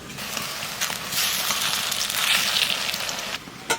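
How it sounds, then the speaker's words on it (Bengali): Taro flower fritters frying in hot oil, a dense, steady crackling sizzle that swells in the middle and stays fairly loud throughout. "আমাদের ভাজা শুরু হয়ে গেছে কিন্তু"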